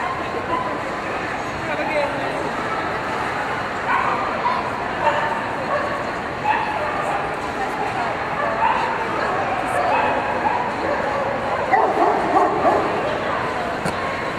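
Two dogs held on leashes yip and whimper repeatedly in a busy spot, with excited little yelps close by and people chatting underneath.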